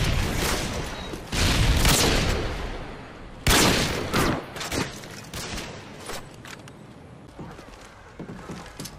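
In a video game, a stun grenade lands and goes off with two sharp, loud blasts a couple of seconds apart, each followed by a decaying rumble and scattered lighter bangs.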